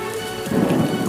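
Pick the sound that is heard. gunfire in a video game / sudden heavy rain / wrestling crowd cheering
sudden heavy rain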